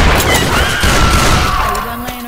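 Rapid gunfire in the video game Left 4 Dead 2, aimed at the Witch: a loud, dense volley of shots under game sounds and a wailing tone, with a voice shouting over it.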